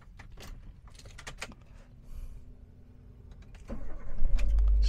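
A 2014 Daihatsu Terios TX Adventure with manual gearbox is started by key: faint clicks and rattles first, then the starter cranks and the engine catches into a louder, steady idle near the end.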